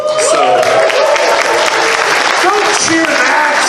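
An audience at a late-night convention show applauds and cheers loudly and continuously, close and dense, with voices mixed into the clapping.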